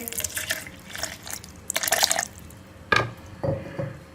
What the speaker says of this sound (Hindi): दूध इसके अंदर हम डालेंगे